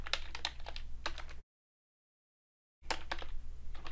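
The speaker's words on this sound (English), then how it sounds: "You give it a title and then you type whatever you want." Quick, uneven clicks of typing on a computer keyboard, close by, in two bursts separated by a silent gap.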